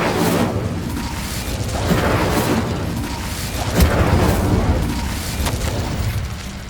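Incendio fire spell in Hogwarts Legacy, a loud, dense roaring burst of flame and impact noise that swells and pulses repeatedly over several seconds, with no talking.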